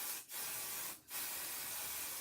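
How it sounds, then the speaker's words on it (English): Pixie spray hisses from a can in two steady, close bursts, each broken by a brief pause, with a long continuous spray after the second gap. "So I'm just going to spray my pixie spray on"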